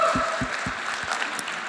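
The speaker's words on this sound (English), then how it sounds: "give one more huge round of applause for all the teams" An audience at the Nucleate Boston Demo Day 2022 applauds the pitch teams: a steady wash of many hands clapping at moderate distance, holding evenly through the moment, with a few low thumps early on.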